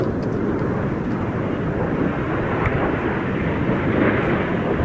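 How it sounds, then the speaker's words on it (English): Display jet aircraft roaring continuously overhead at a Czech air force and NATO air show, a loud, steady wash of engine noise with rumbling low end and slight swells as the formation performs a roll. "Each aircraft will perform a roll, cross in the middle to start the manoeuvre called the circus."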